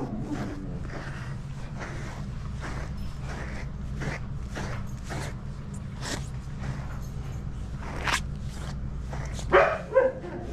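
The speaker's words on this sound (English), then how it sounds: "What is he barking at?" A golden retriever barks repeatedly at a steady pace during grooming, a bit muffled, over a constant low hum, with a couple of louder yips near the end.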